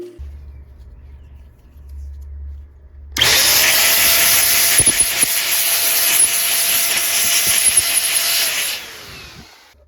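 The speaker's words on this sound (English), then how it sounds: "Got to clean off the residual gasket material that's here." A small power tool, such as a drill or rotary brush, spins up loud and steady for several seconds while scrubbing leftover gasket material off a carburetor, then winds down and stops.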